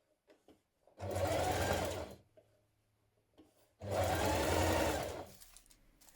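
Sewing machine stitching a dress sleeve seam, two steady runs of rapid motor whir and needle clatter, each lasting over a second with a quiet pause between, close and clear.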